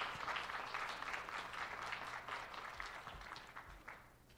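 A Speak Up 2022 event audience gives another round of applause after a music performance, a soft, distant, even patter of many hands that gradually tapers off.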